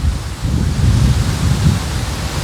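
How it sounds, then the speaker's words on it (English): Gusty wind buffets a microphone outdoors, a steady low rumbling roar that swells and eases over a couple of seconds with no voices. "I kind of wish it was a little bit less windy today"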